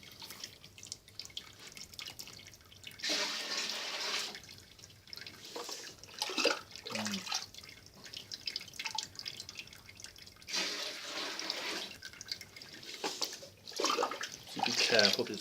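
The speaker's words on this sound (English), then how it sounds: "once it starts dripping like this" Liquid drips from the mashed grain while brewing a bitter, a steady wet patter with small splashes, people talking over it.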